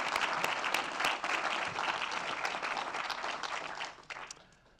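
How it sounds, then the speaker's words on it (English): Audience applause at an awards ceremony, a full, steady round of clapping from a seated crowd that holds for several seconds, then thins and fades out at the close. "She really does, I think, deserve a special warm hand of applause."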